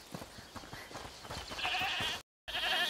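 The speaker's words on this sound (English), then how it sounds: "Is that the goat he talked about?" A goat bleats in the video game A Plague Tale: Requiem, a wavering cry heard fairly close over soft ambient game sound and footsteps, broken by a brief silent gap before the bleat resumes.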